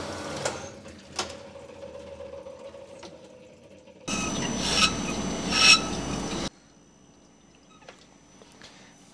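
Rough-grit roughing stones hone an engine block cylinder. A burst of harsh, steady rasping scrape lasts a couple of seconds, and quieter workshop clicks and knocks come before and after it.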